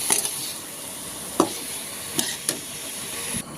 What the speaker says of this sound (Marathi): आता इथे आपण भाजीला पाणी गरम करेल पाणी गरम करून घालून घेऊया